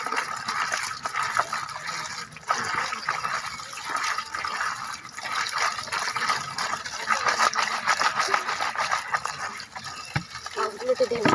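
Water is poured onto fish in a steady splashing, gushing stream. It continues for several seconds at moderate loudness, with voices talking faintly underneath.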